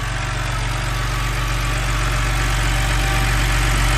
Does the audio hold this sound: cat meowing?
no